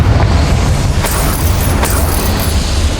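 Confringo blasting spell explosion in Hogwarts Legacy, a loud continuous rumbling blast with crackling bursts layered on top, sustained for several seconds without speech.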